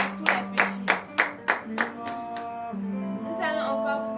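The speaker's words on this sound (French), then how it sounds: "donnez de vives acclamations à l'Éternel" A congregation at a morning prayer service in Benin claps in praise with six or seven evenly spaced claps. Sustained organ-like musical tones continue underneath and afterward.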